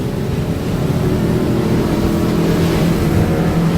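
A 2019 28-foot Duckworth boat's engine roars at full throttle on the water, a loud, steady, close motor drone mixed with rushing wind and water noise.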